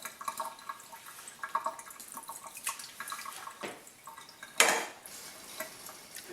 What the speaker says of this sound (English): Alright, now we need to start ladling these curds into the colander gently. I'll be draining off all of the whey.